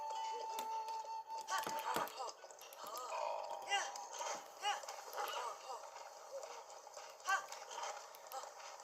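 Horse hooves clip-clopping at a steady gait in Zelda: Breath of the Wild, repeated thuds over game music and ambience.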